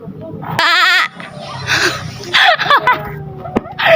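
A pregnant, bearded old goat at an airport bleats loudly and close with a wavering cry, followed by people laughing and chatting around it.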